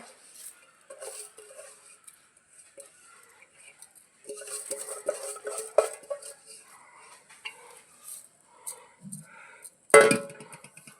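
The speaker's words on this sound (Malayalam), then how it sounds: "അപ്പം നമുക്കിത് കഴുകി വൃത്തിയാക്കി അടുപ്പത്തേക്ക് അപ്പം നമുക്കിത് കുക്കറിലേക്ക് ഇടാം" Chama rice is washed in a pot before going into a pressure cooker, giving scattered metallic clinks and knocks of the pot with light splashing, close by and fairly quiet.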